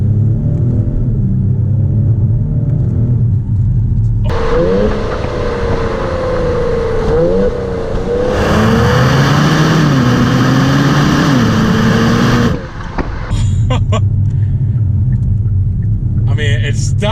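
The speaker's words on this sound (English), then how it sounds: "I'm gonna slow it down a little bit. Downshift, second gear, and we'll go." A 2019 Genesis G70 downshifts into second gear and accelerates, a loud close engine rumble rising in pitch through the pull and dropping at the next shift.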